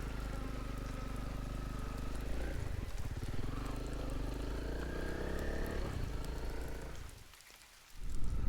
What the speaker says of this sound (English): The rain shower didn't last long.